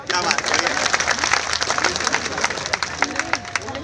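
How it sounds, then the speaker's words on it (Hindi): Audience at a satirical speech by a swami applauding: a steady, dense patter of many hands clapping, close and moderately loud, with crowd murmur mixed in. "ताली बजाओ"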